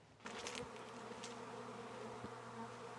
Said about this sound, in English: What's that buzzing? Oh, that's Alex's bees